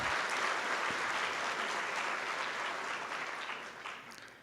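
Audience applause at a conference opening, a dense, sustained clapping from a large crowd that holds steady and then slowly thins out toward the end.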